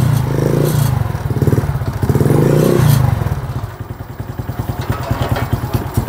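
A motorcycle engine that has trouble with power after battery and regulator replacements idles loudly close by with a rough, pulsing throb that loosens into quicker popping beats toward the end.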